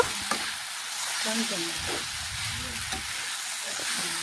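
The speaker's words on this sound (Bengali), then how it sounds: "এখন ব্রকলি দিয়ে নাড়াচাড়া করে মশলার সাথে মিশিয়ে নেব" Broccoli frying with spices in a pan while being stirred, giving a soft continuous sizzle and hiss broken by brief scraping clatter from the stirring, heard close and fairly quiet.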